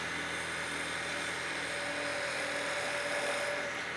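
A skew chisel makes a planing cut along a wooden spindle turning on a wood lathe, a steady whirring hum with a constant hiss that runs without a break, close and continuous.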